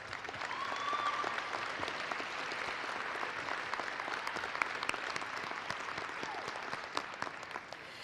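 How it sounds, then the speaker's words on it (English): An audience at a spring nursing convocation applauds the graduating class with steady, dense clapping that holds at an even level throughout, with no voices standing out. "Let's give all of our graduates another round of applause."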